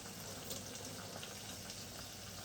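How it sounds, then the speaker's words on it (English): Water squeezed by hand out of chopped banana blossom, a faint, continuous trickle and patter of liquid running off with soft wet splashes. "So I'm going to grab a little bit more and squeeze the water out of it."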